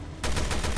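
A sudden loud burst of gunfire in the video game Resident Evil Revelations 2 hits hard at close range and keeps going as rapid repeated shots to the end of the short moment.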